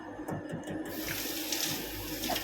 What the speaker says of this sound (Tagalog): Tatapat natin siya sa tubig para matanggal yung mga balat niya.